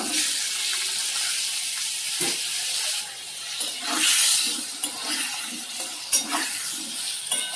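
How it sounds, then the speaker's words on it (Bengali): Kankrol, or spiny gourd, frying in hot oil gives a steady, close, loud sizzle and hiss, with a few scattered pops and stirring clatters and no voices. "এই ঘি করলা যেটা কাঙ্গল বলে এটা ভেজে নেবো"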